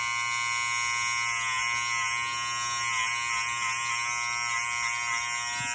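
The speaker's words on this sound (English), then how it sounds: "you can take just a pair of beard trimmers or whatever you edge up your hairline with" A close, loud electric beard trimmer buzzes steadily while edging up a hairline, a continuous high whine with slight wavering and no pauses.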